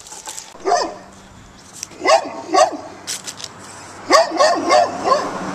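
Dogs bark in short bursts of two or three sharp yips, spaced irregularly and fairly close, with a quiet background between barks.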